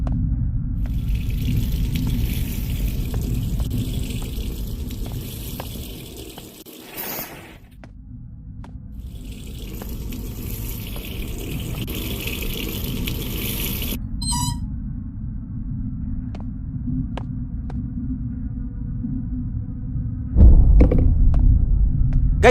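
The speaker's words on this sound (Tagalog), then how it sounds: "naririnig ko yung tubig" Steady rushing running water in the horror video game Skull Hotel. It fills most of the stretch and drops out briefly twice, with no talking.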